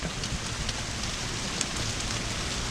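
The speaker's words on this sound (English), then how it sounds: "It's just, you know, a light to medium rain." Light to medium rain falls steadily over a garden in the Deep South, a continuous even hiss with scattered close drops pattering on surfaces and no talk.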